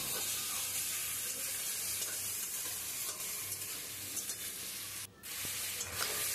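Tender radish for a thin shol fish curry sizzles quietly in oil in a pan, a faint steady hiss with light stirring and one brief louder burst of spitting near the end.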